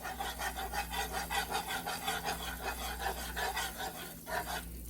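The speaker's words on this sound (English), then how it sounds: "And just keep whisking it." A whisk scrapes rhythmically through a roux in a pan, a quick, even back-and-forth rasp repeating steadily at close range with no talking.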